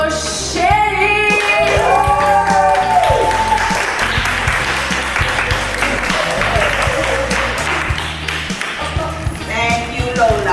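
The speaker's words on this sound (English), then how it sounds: "Please make some noise for Shelly." An audience applauds and cheers for a performer, with a dense wash of clapping and shouting that stays loud and steady, while an amplified voice speaks over the crowd.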